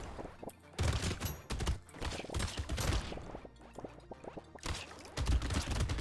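Landmines in the video game Brotato set off rapid popping explosions that blow up a group of floaters, a busy crackling barrage of bursts with short lulls between.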